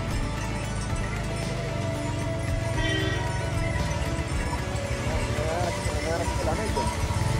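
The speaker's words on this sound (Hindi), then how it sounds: "बगल में घोड़े चल रहे हैं हमारे" Horses walk a mountain path on the route to Kedarnath, their hooves clip-clopping in a steady, uneven rhythm close by, under people talking and a constant outdoor rumble.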